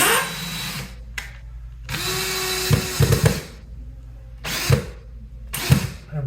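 A power tool drives cheap screws into a mini-split mounting bracket, with several whirring bursts of the motor separated by pauses, close and fairly loud, with no speech.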